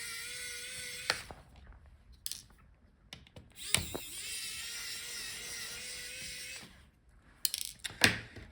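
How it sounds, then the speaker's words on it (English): A small powered screwdriver whirs in short, quiet bursts while removing screws from a Lenovo Yoga 7 14IML9 laptop during a teardown, with faint clicks and handling noises between the runs. "So unscrew all the screws."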